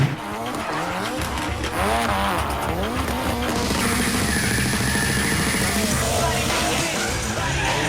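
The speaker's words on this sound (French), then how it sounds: "Le moment où tu driftes au sommet du virage était vraiment impressionnant." A car drifts up a banked turn at a Fast Club track event in France, its engine revving hard with a rising and falling note while the tires squeal loudly and continuously close by.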